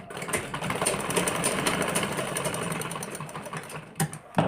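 A sewing machine stitches a seam on a blouse, a close, steady mechanical whirring with a fast needle rhythm that runs throughout and stops briefly near the end, without talk.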